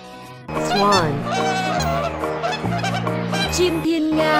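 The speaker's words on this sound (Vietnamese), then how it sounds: "Chim thiên nga." Cartoon swan honking in a Masha and the Bear episode, loud repeated honks over a bright musical score that runs throughout.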